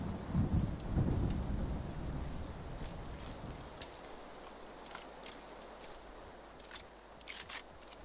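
Rain falls and thunder rumbles in the battle royale game PlayerUnknown's Battlegrounds, a low rolling boom at the start fading into steady quiet rainfall with faint clicks and taps.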